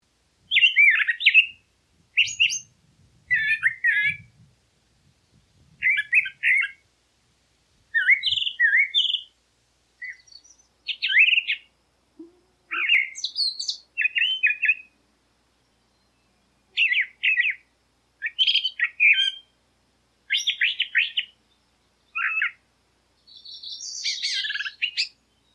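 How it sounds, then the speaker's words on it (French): Mockingbird song: varied bright phrases repeated in short bursts with brief pauses, clear and close, no voices. "Le moqueur, lui, c'est un répertoire de 1000 chants."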